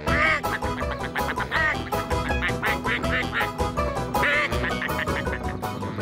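Cartoon ducks quack loudly and repeatedly in quick, overlapping bursts, with a busy, layered tonal backdrop, in a rainy scene.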